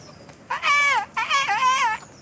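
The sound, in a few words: character imitating birdsong in video game Kingdom Come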